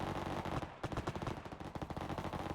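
AK rifle fire in the naval combat game Frontline: Karelia, a dense, rapid burst of automatic shots rattling continuously for a couple of seconds at moderate level with no speech over it.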